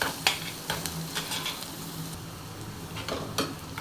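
Onion and tomato fry in a pan for a prawn curry, a continuous close sizzle broken by several sharp spatula scrapes and taps against the pan.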